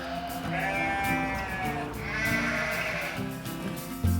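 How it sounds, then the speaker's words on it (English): Sheep in the English countryside bleat twice in long, wavering, nasal calls, close and clear over a quiet field, with a soft thump at the end. "those neighbors I refer to are sheep"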